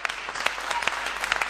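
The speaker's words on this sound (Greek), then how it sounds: "Ένα χειροκρότημα στο φίλο μου εκεί πέρα." Audience applause for a young singer at a comedy show, steady close clapping from a crowd filling the short moment without pause.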